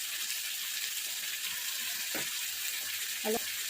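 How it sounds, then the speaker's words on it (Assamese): Paneer masala sizzles steadily in a pan, a constant bright hiss of frying with a couple of faint knocks or stirs near the end. "এতিয়া আৰু অকণমান সময় মই ভাজি থাকিম।"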